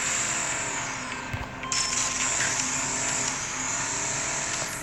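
A car engine in the Racing Rivals video game drones steadily through a drag race launch, a continuous mechanical hum with a brief dip partway through and no talk over it.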